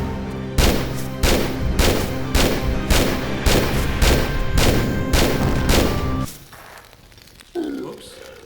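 Magnum pistol fire in Tomb Raider Remastered: about a dozen loud, evenly spaced shots in quick succession, each a sharp blast with a short ringing tail, ending abruptly before a quieter stretch of low game ambience.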